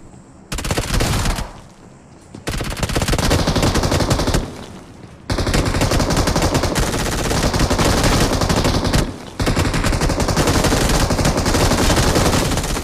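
Dense automatic gunfire from the battle royale game BGMI, loud rapid bursts of machine-gun fire that run in long stretches with brief pauses between them, with no speech.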